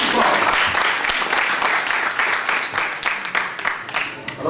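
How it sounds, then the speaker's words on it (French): Audience applause for participants at a graphic design battle event, a dense steady clapping from a crowd that carries on for several seconds at fairly loud level, with a voice faintly underneath. "Des applaudissements pour les autres participants."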